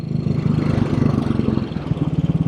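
A 1957 Royal Enfield Bullet 500 British single-cylinder motorcycle in excellent condition runs close by, its engine thumping in a steady, fast low pulse with no talk over it.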